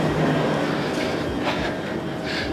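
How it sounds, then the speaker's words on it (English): A c2c train waits at a dark London terminal station, giving a steady loud rumble of engine and carriage noise throughout, with faint hiss bursts and clanks near the end. "I do love a good c2c train."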